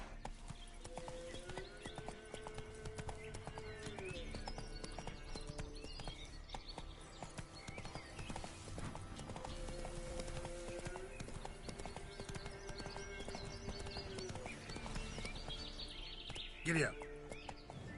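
Roach, a horse in The Witcher 3 video game, gallops with a steady clip-clop of hooves running under game music and ambient sounds, with a brief sharp burst near the end.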